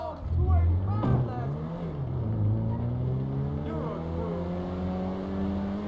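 Car engine droning steadily in Grand Theft Auto V, rising and falling in pitch as the vehicle drives, with people talking over it throughout.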